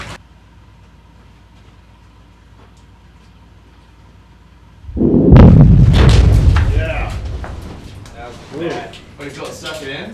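An ore blast goes off at a southern Oregon gold mine after several seconds of quiet. A sudden heavy boom is followed by a long rumbling roar that slowly decays, with people talking over it.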